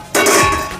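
A metal utensil clangs against a pan while roasted sesame seeds are scooped out, one bright ringing strike that slowly decays over a quiet kitchen background.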